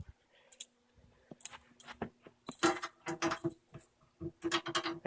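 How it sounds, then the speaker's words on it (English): Keys jangle and clink in bursts as a ring of keys is handled, the metallic rattles coming in short irregular clusters, close and fairly loud with brief pauses between. "Let me get my keys."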